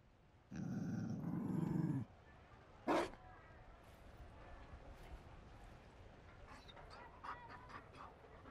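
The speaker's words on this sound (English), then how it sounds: "You found a dog? They don't breed Mabari in Olay." A Mabari war dog in Dragon Age Inquisition's Trespasser content gives a loud, close growling whimper, then a short sharp yelp, followed by faint scattered clicks.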